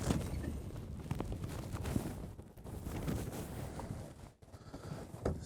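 Wind on a lake buffets the microphone of a fishing boat in a steady, rough roar that rises and dips, with a short lull near the end.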